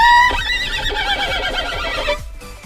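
A violin imitates a horse neighing, giving a loud, bright whinny-like descending run of harmonic tones that wavers and fades over about two seconds, with no talking.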